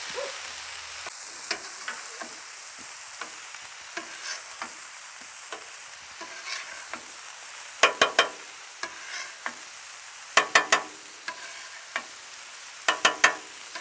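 Chipotle pork loin with Italian squash and zucchini sizzles steadily on a flat griddle, with sharp spatula clicks and scrapes rising above the constant frying hiss, one cluster after another.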